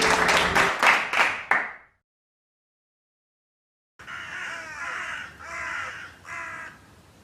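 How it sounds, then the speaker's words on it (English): Crows caw outdoors in two bursts of several harsh, loud calls each, separated by a couple of seconds of silence. "the flipping crows kick off"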